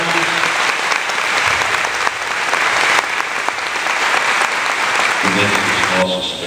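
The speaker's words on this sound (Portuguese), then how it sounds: "vamos dar uma salva de palmas para o nosso bispo" Congregation applause for the bishop at a friar's ordination Mass, a long, loud, even roar of clapping from many people, with a voice speaking faintly over it near the end.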